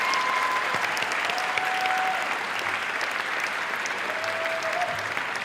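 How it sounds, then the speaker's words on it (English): Medical school graduates at a 2019 Baylor College of Medicine ceremony applaud toward their families and friends, a dense, sustained wash of clapping from a large indoor crowd, steady throughout with faint voices underneath. "give them"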